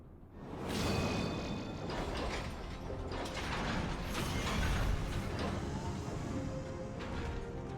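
A large elevator platform in the Final Fantasy XIV game grinds and rumbles as it moves, with continuous mechanical clanking, ratcheting gear noise and faint whooshes throughout.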